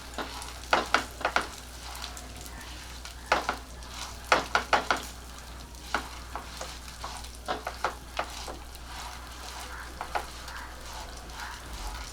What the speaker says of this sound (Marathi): आधी हे दोन्ही डाळी आपण छानपैकी भाजून घेऊया